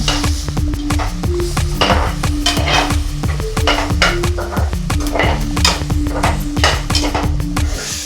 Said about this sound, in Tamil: நம்ம ஊற வச்சிருந்த சோயாபீன்ஸை வந்து அப்படியே ஃப்ரை பண்ணி எடுத்துக்கலாம்.